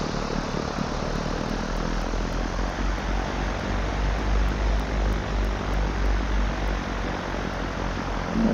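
Simulated airplane engine in X-Plane drones steadily and loudly while taxiing, a dense continuous roar with a low hum and faint regular ticking above it.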